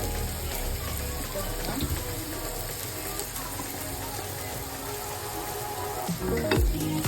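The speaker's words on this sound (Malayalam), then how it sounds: "സവാള ഇട്ട് കൊടുക്കേ. നന്നായിട്ട് വഴറ്റി" Sliced onions sauté in a pan for kappa biryani, giving a steady, close hiss of sizzling oil across the whole stretch, with a voice heard faintly over it.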